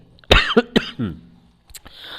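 A few sharp coughs in quick succession from a person with a cold and fever, close and loud, followed by a short throat-clearing rasp.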